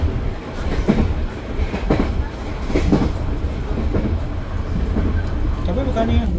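Passenger train KA Airlangga on the Jakarta–Surabaya run rumbles steadily from inside the carriage, with continuous rolling noise and faint wheel clatter while people talk.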